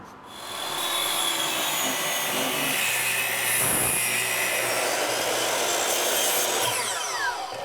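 A power saw rips a pre-primed pine trim board, a loud continuous whining cut that starts abruptly and holds steady for several seconds, close up with no talk.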